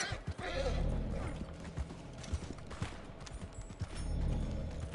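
A horse whinnies in the video game Red Dead Redemption 2 Online while hooves clip-clop steadily, with scattered clicks and muffled bursts in the background.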